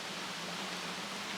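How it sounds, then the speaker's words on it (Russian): Soft, steady hiss of rain falling in a park in Minsk, a quiet broadband patter with no talking. "А вот и снова дождь начался."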